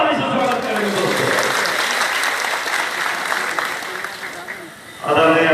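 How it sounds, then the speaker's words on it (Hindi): Loud, sustained applause from a crowd welcoming a speaker at a party workers' convention, a dense wash of clapping that holds steady for several seconds before fading, with a voice coming in at the end. "जोरदार ताली से स्वागत करेंगे दोस्तों।"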